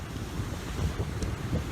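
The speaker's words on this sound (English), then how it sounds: "The waves are fantastic." Rough Mediterranean sea waves break on a beach in Valencia, with a steady roar of surf and gusting wind buffeting the microphone, and no one speaking.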